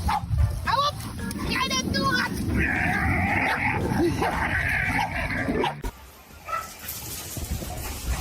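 Energetic puppy yipping, barking and whimpering in quick bursts close by, mixed with other busy indoor noise and a voice, then quieter toward the end.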